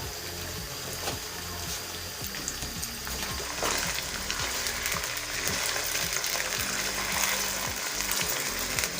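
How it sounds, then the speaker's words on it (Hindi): Steady frying sizzle of chicken in a pan with occasional scraping and stirring, continuous and close, with no voices. "चिकन को हमने अच्छी तरह फ्राई करना है।"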